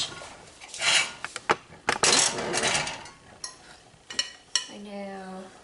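A casserole dish is handled in a home kitchen during fruit parfait and granola prep, giving several sharp clinks and knocks of dishware, scattered and close, with a brief voice and tonal beep near the end.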